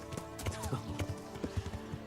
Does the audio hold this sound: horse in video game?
yes